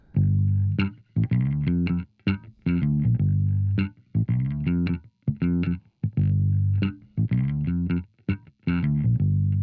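A short music sample with a changed tempo loops with choppy, stuttering phrases and a heavily effected, distorted tone, repeating steadily with brief gaps and no voices.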